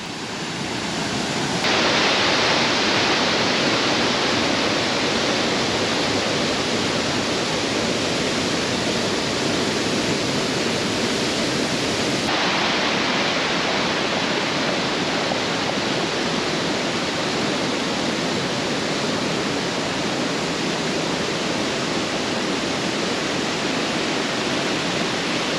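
Kuhuatan waterfall pours steadily into a cool mountain stream valley in Nanzhuang, Miaoli, a loud, continuous broadband roar of falling water that stays constant and close with no voices.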